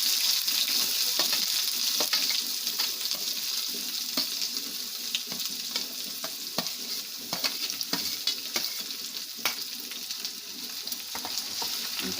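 Onions and green chillies sizzle in hot oil in a pan, with a constant close frying hiss broken by frequent sharp crackles and stirring scrapes.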